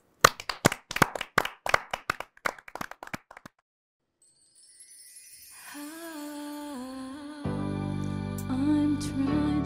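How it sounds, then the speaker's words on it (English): A small audience claps for a singer in a brief burst of hand claps that tapers off into silence, followed by soft music rising afterward. "Let's all give Giselle a warm round of applause"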